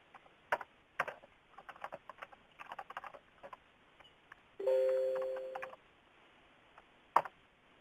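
Clicky keyboard typing in scattered bursts of keystrokes, fairly close, with a short electronic tone sounding midway.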